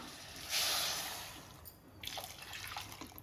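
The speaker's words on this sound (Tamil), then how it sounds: "இதில் நான் மூணு கப்பு தண்ணி சேர்க்குறேன்" Water poured into jaggery, about three cups, for sweet appam batter, giving a close, bright splashing pour that fades after about a second, followed by softer trickling and drips.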